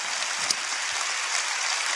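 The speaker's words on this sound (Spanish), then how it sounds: "Dale un fuerte aplauso a la gente que nos ve en casa." A church congregation applauds during a Faith & Fire service, a dense, even wash of clapping heard somewhat distantly and without talk for a couple of seconds.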